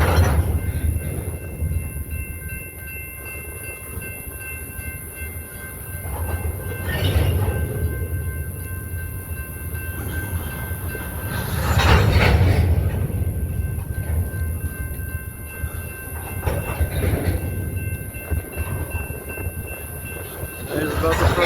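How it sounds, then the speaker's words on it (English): A BNSF train creeps slowly along the tracks in a steady low rumble with occasional swells of wheel and car noise, heard from nearby outdoors while a person talks intermittently. "the train's slowly moving back a little bit"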